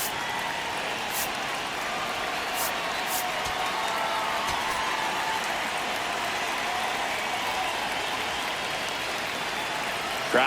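Stadium crowd at a Yankees versus Giants baseball game in the ninth inning, a steady, dense roar of cheering and applause sustained at an even level throughout, broad and enveloping, with no talk on top.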